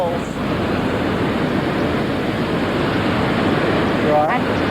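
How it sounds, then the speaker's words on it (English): Paronella Falls, a 65-foot waterfall in Paronella Park, thunders as a loud, steady broadband roar of falling water that fills the whole stretch without pause. "These are the Paronella Falls. It's a 65-foot drop"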